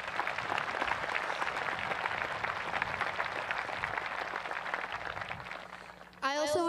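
Sustained applause from a high school graduation ceremony audience fills the hall with a dense, even wash of clapping that fades slightly before a voice begins speaking at the very end.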